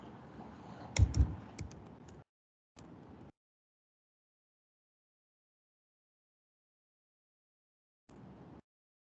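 Keys clatter on a computer keyboard as notes are typed in quick bursts, a busy flurry of clicks, then a short second burst, a long silence and one last brief run of typing, fairly quiet and close.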